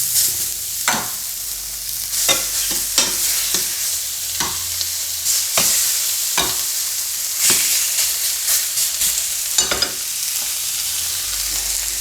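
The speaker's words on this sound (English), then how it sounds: "I'm going to get them in the pan to sear." Turmeric-seasoned pork chops, salted and peppered, sear in a hot pan with a steady broadband sizzle, punctuated by sharp crackles and pops every second or so as fat spits; no voices.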